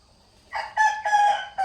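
A rooster crows close by, one loud drawn-out call broken into several bursts, rising from near silence.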